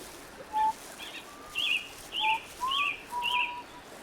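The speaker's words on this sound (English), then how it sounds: "off in the distance the prince could hear her whistling" Faint, thin whistled notes repeat in short rising-and-falling phrases, distant over a quiet background.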